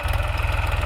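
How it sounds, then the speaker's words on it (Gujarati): A tractor engine idles and chugs while garlic is sown on a farm plot in Paliyad village, Gujarat, giving a steady, close, low rhythmic thumping with a faint knock and no voices. "ટ્રેક્ટરથી લહણ વાવ્યા છે આપણી વાડીએ"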